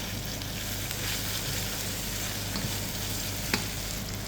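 Pesto and cream cheese being stirred in a hot pan, a steady loud sizzle and crackle of frying with faint scraping from stirring and a small clink near the end.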